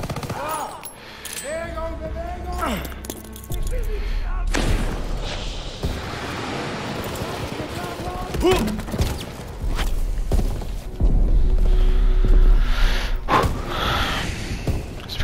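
Machine gun fire in Call of Duty WW2, loud sustained bursts of automatic gunfire mixed with explosions and battle noise, with brief voice sounds from the game in between.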